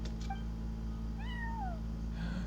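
A single cat in the video game Genshin Impact gives a short, clear meow that bends upward and then drops, heard over a steady low hum with no speech.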